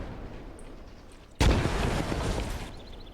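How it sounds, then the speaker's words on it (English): A grenade blast in the Gates of Hell WWII infantry game erupts once, sudden and loud, then rumbles and crackles away over a couple of seconds against a low battlefield background. "we'll probably just go ahead and throw a grenade"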